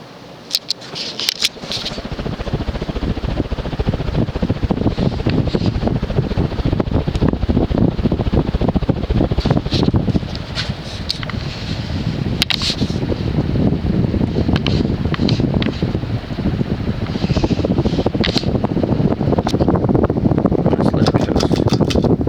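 A 52-inch Air Cool Emperor knockoff ceiling fan runs at speed, giving a steady, loud broadband whoosh of moving air that holds continuously, with faint rustling and buffeting against the microphone.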